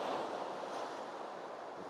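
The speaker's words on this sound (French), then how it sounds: "peut-être les vagues sont trop importantes pour vraiment" Broad, continuous rush of ocean surf breaking on a seashore, steady and fairly loud throughout with a wind-like hiss and no voices.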